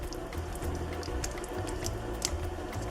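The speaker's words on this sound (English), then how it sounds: "So right about now we put an additional 1/2 cup of water and we are stirring." Water is poured into a pepper steak gravy as a continuous, close splashing and gurgling stream that keeps an even level for about three seconds, with no voices.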